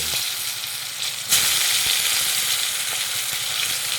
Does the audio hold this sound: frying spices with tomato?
yes